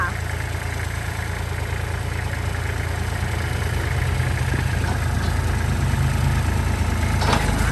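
A 2008 Kubota L3408 tractor's engine idles steadily at close range, a continuous rough rumble that holds level throughout.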